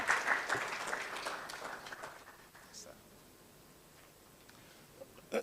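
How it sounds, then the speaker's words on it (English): An audience at a launch event on non-communicable diseases in West Africa applauds Dr. Dela Dovlo, with a burst of clapping at the start that quickly thins and fades into near quiet with a few faint stray sounds. "Please help me with a big round of applause."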